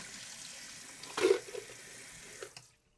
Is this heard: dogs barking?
no